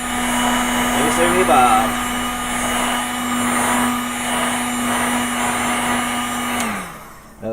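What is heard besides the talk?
heat tool blowing hot air to dry model paint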